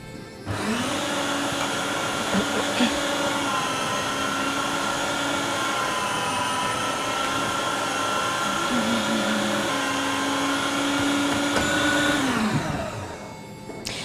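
A food processor grinding boiled potatoes runs with a steady, loud motor whine and a whirring drone that hold evenly for several seconds before spinning down at the end.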